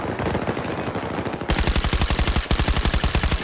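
Machine gun fire in the video game Battlefield 2042, loud and close, with rapid automatic bursts that intensify into a fast, steady hammering stream of shots.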